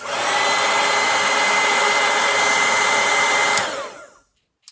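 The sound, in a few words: hair dryer drying a watercolor painting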